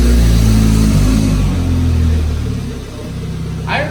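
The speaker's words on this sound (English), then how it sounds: "I heard some turbo roll" A muffler-deleted Audi S3 revs loudly and close by, its deep exhaust droning and dropping back, with a rising turbo whistle near the end.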